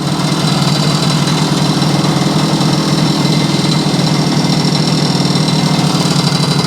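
A Yamaha 100 Trailmaster motorcycle engine running steadily at idle after reassembly, a loud, even, close-up buzzing putter that holds constant throughout with no voices.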